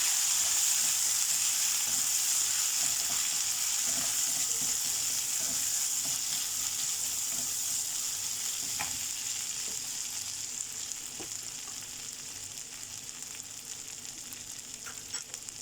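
Ginger garlic paste fries in a pan for paneer lababdar with a bright, continuous sizzle. The sound is strong at first and gradually softens, with occasional faint clicks and no speech.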